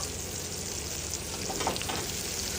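Food frying in sesame oil in a pan gives a dense, continuous sizzle close by, with light stirring and no talking.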